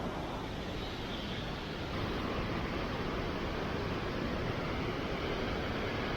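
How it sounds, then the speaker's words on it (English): A waterfall near Loch Ness rages down into the river below, a loud, steady broadband roar of rushing water that swells slightly partway through and continues unbroken, with no voices. "you can see far below the water is continuing to rage down into the river"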